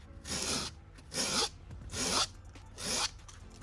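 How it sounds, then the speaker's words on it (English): Rough sandpaper rasps along the edges of foam armor in four separate strokes, each a harsh, close scratching burst lasting about half a second, with short pauses between them and no one talking. "So basically just keep sanding the edges until I get all the way around"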